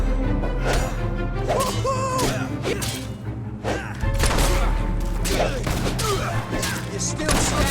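Gunshots and combat impacts in Fable 3, sharp repeated cracks and thumps over a steady game music bed, loud and close, with a voice speaking at times between the hits.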